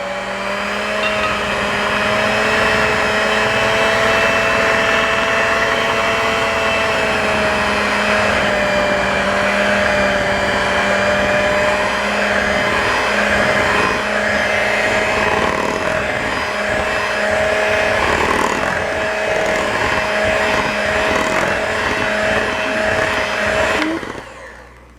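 An electric mixer whirs steadily for about 24 seconds while beating Boston cream pie batter, a loud continuous motor drone with a slightly shifting pitch that stops abruptly at the end, with no talking over it.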